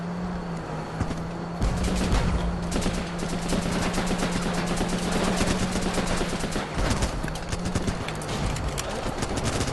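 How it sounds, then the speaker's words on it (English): Sustained small arms fire rattles through a war shooter video game, a dense stream of rapid shots continuing almost without pause against a steady low engine hum. "Small arms firing against that bad boy."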